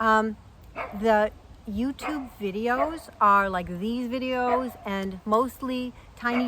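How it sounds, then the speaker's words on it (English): A dog barks and yips repeatedly in loud, close bursts, with some whimpering pitch slides, running under and between a person's speech. "I apologize for my dog. Starting a dog barking event."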